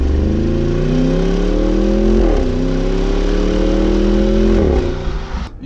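A Bentley Bentayga's engine and exhaust drone loudly at close range, a steady throaty tone that rises in pitch, dips briefly, climbs again, then drops away at the end.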